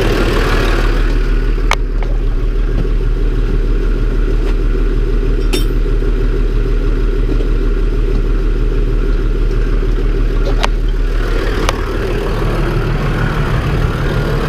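An MTZ tractor engine idles steadily and loudly close by throughout, a low constant diesel rumble with faint occasional clicks and no talk.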